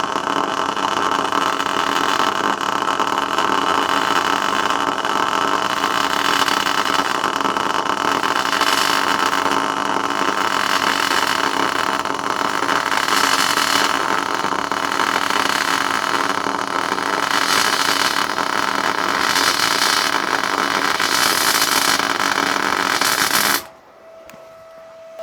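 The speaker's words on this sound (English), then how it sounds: "I'm going to run a nice long bead along there" An R-Tech MIG181 MIG welder runs a long continuous bead along steel box section, giving a steady, loud crackling buzz that holds for about twenty-three seconds before cutting off abruptly into near silence with a faint hum.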